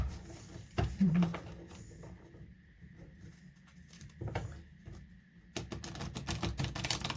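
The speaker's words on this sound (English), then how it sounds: "I like to see my cards while I shuffle" Tarot cards being shuffled by hand indoors, producing soft bursts of riffling and tapping with quiet pauses between them, close and fairly faint.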